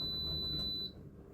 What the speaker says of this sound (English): we heard the beep